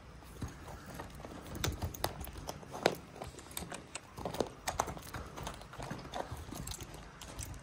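Horse hooves clip-clop at a walk as the animal is led for training, a quiet, irregular series of close hoof knocks against faint background noise.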